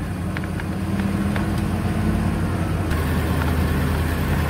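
A converted vehicle drives along the road after a conversion, its steady engine and road rumble loud and continuous throughout with no talk.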